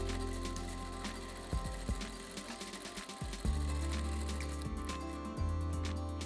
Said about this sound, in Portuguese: Então, vou começar aqui a minha costura.